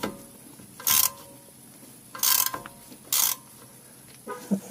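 Hand-turning of the wheel bearing adjustment nut on a Porsche 928, three short metallic ratcheting bursts spaced about a second apart over a quiet background.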